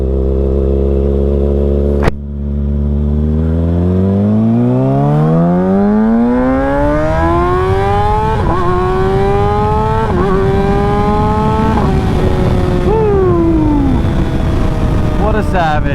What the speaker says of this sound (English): I wanted to see if I can get a pull going, like a first gear pull going